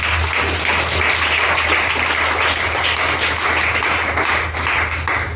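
A church congregation applauds together in steady, dense clapping that holds loud and even from start to finish, with no talk over it.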